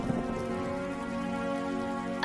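Steady rain falling and pattering on surfaces, an even continuous hiss at moderate level with no voices, used as a sound effect in an animated Hindi village story about paddy farming.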